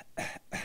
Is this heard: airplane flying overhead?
no